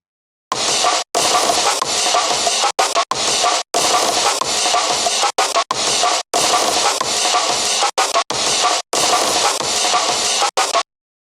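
A breakcore drum sequence built from a sample in LMMS plays as dense, loud, chopped breakbeat bursts, cut by short abrupt gaps into an irregular stuttering pattern.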